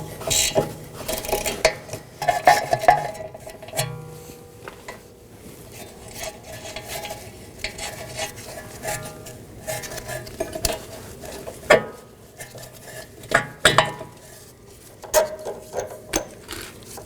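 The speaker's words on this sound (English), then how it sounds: "Put a wrench on one side and a socket on the other side and remove the bolt." A wrench and socket work a 15mm bolt on a rear sway bar end link of a 2018-2024 Chevrolet Equinox, giving scattered metallic clinks and ratchet clicks up close over a low background rumble.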